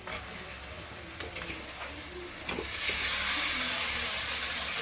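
Meat dropped into a pan of sizzling spiced masala with garam masala, steady frying hiss and stirring scrapes with a couple of sharp clinks, the sizzle swelling louder and brighter toward the end.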